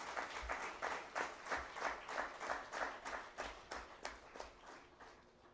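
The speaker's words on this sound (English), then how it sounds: "give them a big applause" An audience applauds at an official gathering, rhythmic clapping in regular pulses, fairly distant and soft.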